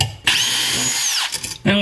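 A power drill whirs loudly and steadily for over a second, driving a screw that fastens a metal plate together with a receptacle during a kitchen sink swap, with a short burst after a brief pause.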